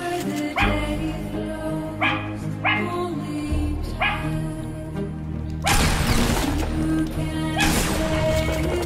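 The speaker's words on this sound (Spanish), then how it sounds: "que tienes el perro ahí ladrando" A dog barks repeatedly in sharp bursts, several loud barks spaced a second or so apart against steady background noise and Fortnite game music.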